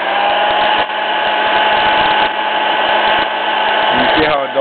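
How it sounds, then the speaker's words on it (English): A new hair dryer runs steadily and loudly throughout, a continuous motor whir and airflow hiss, used to dry clear coat on a leather furniture repair, dipping briefly near the end. "Got a new hair dryer."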